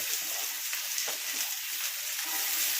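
Ivy gourd sizzles and fries in a pan of oil, a steady close crackling hiss with no breaks and no voices.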